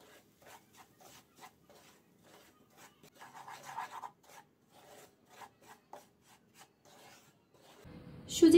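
Semolina is frying in oil over a low flame, stirred with repeated soft scraping and rasping strokes that are quiet and close, ending in a brief louder clatter.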